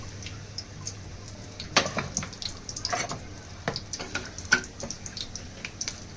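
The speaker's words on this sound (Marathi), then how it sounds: "मग इथे हे गरम मसाला जो घेतलेला आहे खडा ते घालूया" Whole garam masala spices hit hot oil for a fresh cashew curry, giving a soft, steady sizzle with scattered crackles and a few sharper pops, close by and with no talking.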